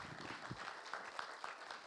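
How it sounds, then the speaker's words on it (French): An audience at the official opening of the EMERGING Valley 2021 event applauding a minister, a brief, fairly faint patter of scattered claps. "Je vous demande d'applaudir Madame la ministre qui est avec nous."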